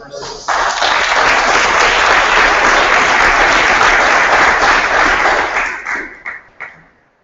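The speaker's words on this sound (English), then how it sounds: "round of applause for Persis" A conference audience bursts into loud, dense applause that holds steady for several seconds before thinning into a few final claps, with some crowd murmur beneath.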